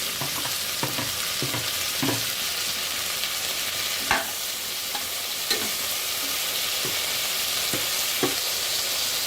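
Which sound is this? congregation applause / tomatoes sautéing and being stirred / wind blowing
tomatoes sautéing and being stirred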